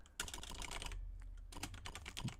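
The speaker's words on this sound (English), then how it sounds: "let's type this line" Rapid keystrokes on a computer keyboard while entering a line of Mac 65 assembler code for Atari assembly programming, a dense run of clicks with a short pause midway, close and alone.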